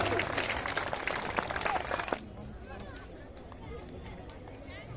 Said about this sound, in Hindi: तबला वादक गोपाल जी के लिए एक बार जोरदार ताली।